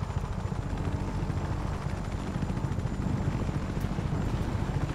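A helicopter in the Just Cause 3 video game, a steady low rotor thrum and engine drone holding evenly throughout, with no voices.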